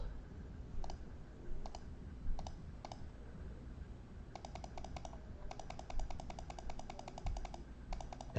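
Mouse clicks select cards in a Magic: The Gathering Dominaria United draft simulator. Sparse single clicks give way to quick runs of sharp, close taps over a low background hum.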